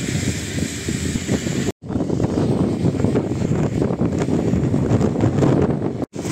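Strong, steady wind roars and buffets across open fields in rain, loud and continuous, with two brief dropouts; no voices are heard.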